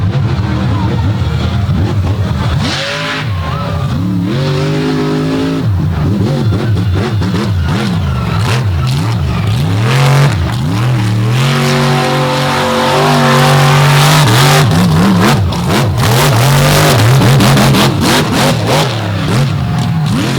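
Dirt-track race car with a big Chevy engine roaring and revving loudly as it slides through sand at a Naples All Stars race, engine note rising and falling continuously with a faint announcer voice underneath.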